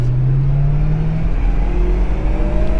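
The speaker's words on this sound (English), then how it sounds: "I'm not sure if the mic is picking up the audio, but this motor just is very gnarly" A 2013 BMW M3 Competition Package engine drones steadily from inside the cabin, pitch rising slowly and then holding as the revs climb, a continuous loud rumble with no voices.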